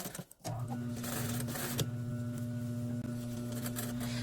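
Sewing machine understitching fabric, a steady close mechanical whir running continuously after a brief start, with no talk.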